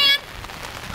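Heavy rain pours down outdoors during a wet volleyball game, a steady broadband hiss of drops on surfaces that continues after a brief louder tonal burst at the very start.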